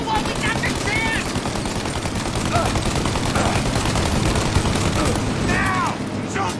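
Gunfire in the game Mafia: Definitive Edition, dense rapid machine-gun bursts and shots pounding continuously at close range, with voices shouting over the din.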